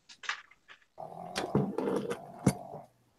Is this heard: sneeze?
no